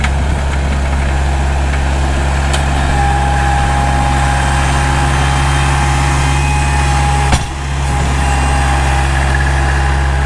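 A Kubota L4701 tractor's diesel engine idling steadily up close, a loud, constant low rumble with an even hum and one brief dip in the sound partway through.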